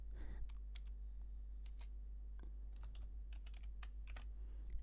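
Rapid, fairly quiet clicking of keys on a computer keyboard, irregular taps continuing throughout over a steady low hum.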